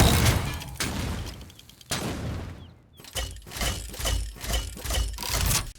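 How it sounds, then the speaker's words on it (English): Bouncing grenades from Betty la Bomba's grenade launcher in Paladins go off as a series of close, loud, crackling blasts, several sharp bursts in quick succession with brief gaps between them. "Betty fires a grenade that can bounce and explodes after 2 seconds"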